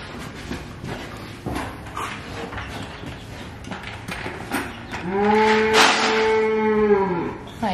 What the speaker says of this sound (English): that was a loud cow